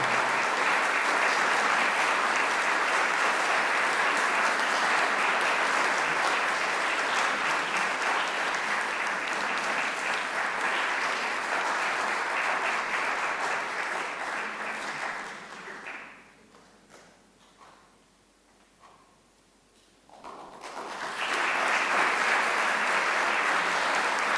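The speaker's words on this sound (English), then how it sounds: "Can we have one more round of applause" A large audience applauds steadily at a university distinguished alumni leadership awards ceremony. The clapping fades to a lull partway through, then swells back to full, dense applause.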